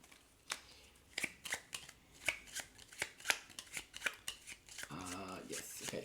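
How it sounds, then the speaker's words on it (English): A deck of cards is shuffled at a tabletop game of Wyrmspan, with a quick series of crisp riffling snaps ending in a short bridging flutter, heard close and fairly faint. "So I can shuffle these up."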